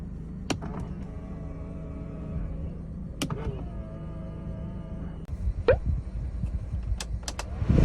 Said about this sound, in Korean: 접이식 사이드미러